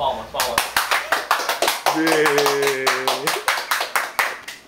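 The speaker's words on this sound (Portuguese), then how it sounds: "Palmas." Steady, rhythmic group clapping keeps a regular beat throughout, close and loud, with voices and a sustained sung or shouted tone over the middle.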